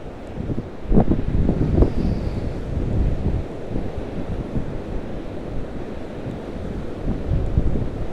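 Huge sea waves pound the shore beside a promenade, churning up foam in a steady, loud roar of surf, with buffeting wind noise on the microphone and a few heavier surges rising out of the continuous wash.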